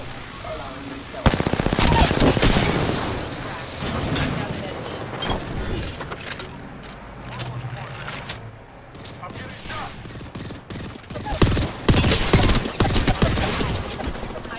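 Rapid automatic gunfire rattles through an Apex Legends match in long, loud bursts with booming shots and pauses between them. A voice speaks over the firing.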